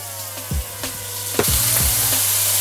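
Bacon lardons hit a hot pan and sizzle, with a few thumps and scrapes as they are stirred before a steady, bright frying hiss takes over.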